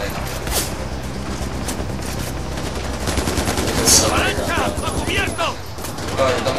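Sustained gunfire in the open-world shooter Far Cry 4, repeated rifle bursts and single shots rattling over game ambience, with a player talking over the action.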